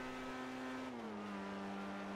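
Grotti Itali RSX, a supercar in GTA, at top speed on Cayo Perico, giving a steady high engine drone whose pitch dips slightly as it holds speed, continuous and without speech.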